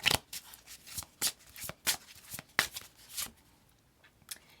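Manifest Your Soulmate Oracle cards are shuffled close up, a run of crisp riffling bursts in an uneven rhythm that tapers into softer taps.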